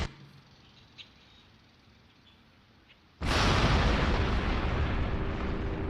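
A huge nuclear warhead detonation after an airstrike bombardment near Lahore erupts suddenly from a quiet rumble, with one small pop before it, into a loud, sustained roaring blast that fills the rest of the moment.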